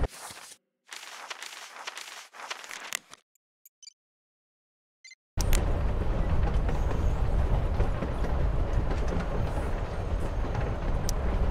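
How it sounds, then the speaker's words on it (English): Moving train in the video game Life Is Strange: Before The Storm: brief scuffing footsteps, then a near-silent gap, then a loud, steady rumble and rattle of railcars that continues to the end. "Guess we're not the first ones to hop on this train."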